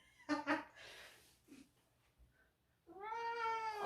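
A house cat meows several times nearby, two quick cries early, a short soft one mid-way, then a long drawn-out wail at the end, loud and close in a quiet room.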